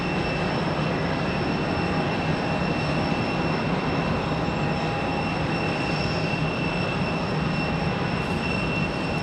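A Republic Airways airliner at Raleigh-Durham International Airport gives off a loud, steady roar with a constant whine, holding unchanged and unbroken throughout.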